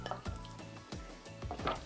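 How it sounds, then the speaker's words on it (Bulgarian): Marinated meat is stirred in a bowl, with several scraping, clattering knocks of utensil against dish in an uneven rhythm, close and without talk. "Разбърквам го"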